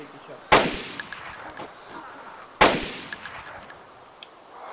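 Two sharp, loud rifle shots in the video game DayZ, a couple of seconds apart, each followed by a decaying echo and faint clinks in an outdoor setting.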